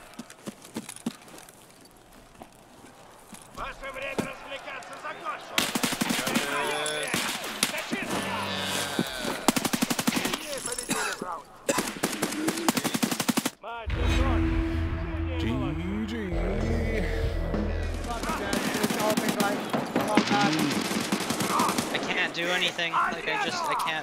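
Gunfire in the shooter game Escape from Tarkov Arena, with bursts of shots and heavy impacts crowding the middle of the stretch, mixed with game noise and talk from players.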